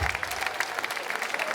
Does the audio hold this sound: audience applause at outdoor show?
yes